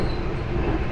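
The KA Banyubiru train runs along the old Solo–Semarang railway, heard from inside as a steady low rumble of wheels and carriage noise, continuous and fairly loud.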